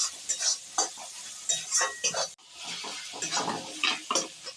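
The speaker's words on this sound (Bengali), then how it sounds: "এটা একটু নাড়িয়ে নেব" A mixture being stirred in a frying pan: bursts of scraping and clattering spoon strokes in an uneven rhythm over a light sizzle, close up, with no talking.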